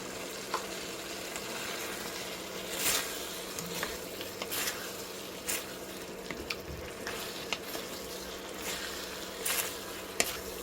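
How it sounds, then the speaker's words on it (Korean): Cut tofu and chives stir-fry in a pan for mapo tofu, giving a steady loud sizzle broken by occasional scrapes and stirring clatter. "여기에다가 두부 썰어놓은 것을 넣고 부추 썰어놓은 것을 넣어서"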